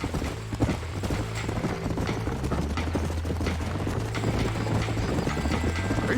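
Horse hooves clip-clopping steadily in the Red Dead Redemption video game, a continuous close rhythmic trot with faint mechanical rattling underneath and no talk.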